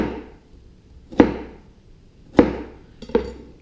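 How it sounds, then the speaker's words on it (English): A knife dices vegetables into 8 mm macédoine cubes, three crisp, separate chops striking a cutting board in a quiet kitchen. "Line them up together and do my Macédoine."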